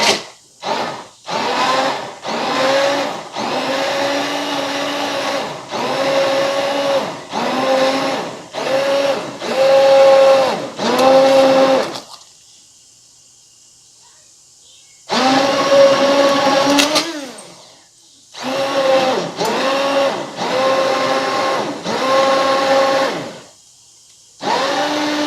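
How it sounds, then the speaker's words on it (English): An immersion blender whirs in a pot of simmering tomato sauce for spaghetti and meatballs, loud buzzing bursts pulsing on and off, with a long pause midway before blending resumes. "I'm gonna put my immersion blender in."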